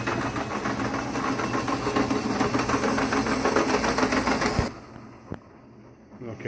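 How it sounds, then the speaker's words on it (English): A model train locomotive pulls a boxcar along the track with a rapid, rhythmic mechanical clatter and whir that runs steadily, then cuts off abruptly, leaving near silence with a single faint click. "this has been about the smoothest run so far with the locomotive and the boxcar"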